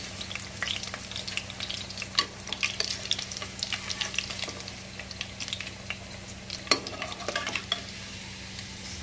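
Fish pieces fry in oil in a pan, a steady close sizzle and crackle with scattered pops and light scraping from stirring, and no voices.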